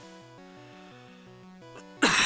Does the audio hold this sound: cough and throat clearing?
yes